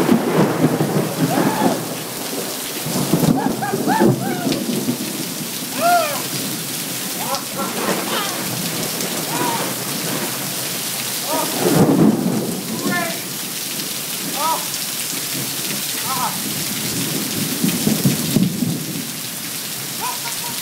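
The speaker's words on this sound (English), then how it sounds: "I love the fucking rain." Heavy rain pours steadily outdoors in a thunderstorm, with dense hiss throughout and low thunder rumbles swelling at intervals, while voices are faintly mixed in.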